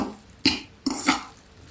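Salad with salt and sunflower oil gets mixed in a bowl, giving two quick clinks and scrapes of a utensil against the dish, close and fairly quiet, with no talking.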